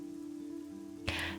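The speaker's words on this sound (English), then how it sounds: "I find the sound of rain soothing" Rain in the video game Fall of Porcupine, a steady soft patter that continues throughout, with a brief louder burst of spray near the end and no voices.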